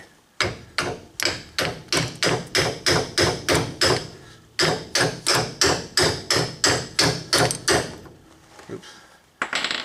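A hammer raps a part during a Dana 44 axle rebuild, two long runs of quick, evenly spaced sharp metallic blows with a brief pause between them, then a couple of isolated knocks.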